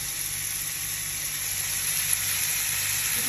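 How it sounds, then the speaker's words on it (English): Rolled prosciutto ham sizzles in duck fat in a pan, a steady, bright hiss and crackle that holds evenly throughout, close and uninterrupted. "So we've got the prosciutto ham nicely rolled, sizzling in some juicy duck fat."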